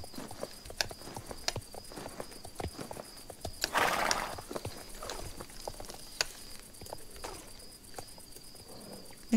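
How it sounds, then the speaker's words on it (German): Hooves clop at an unhurried walking pace in the video game Star Stable Online, regular and close, over a faint chirping insect background with a brief snort midway. "Das Pferd geht aber ganz schön langsam."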